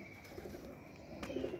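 Pigeons coo softly in the background, low murmuring calls faint and somewhat distant against a steady hum.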